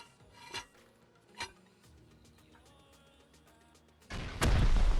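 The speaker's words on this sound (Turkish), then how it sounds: "Evet yanıcı roketimizi attım." An incendiary rocket is launched in the video game Rust: two sharp metallic clicks ring out, then a sudden loud, sustained whooshing roar erupts near the end.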